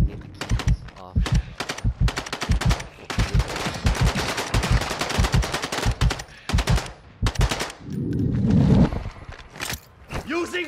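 Video game gunfire during a combat run through a factory complex, with rapid automatic bursts and sharp single shots in quick succession, loud and close, mixed with heavier rumbling impacts and shouted voices over the shooting.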